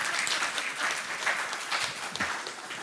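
Audience applause at a book launch for a history of the Grenada Boys' Secondary School, a steady wash of clapping from a room of people, moderately quiet and continuous with no talking over it.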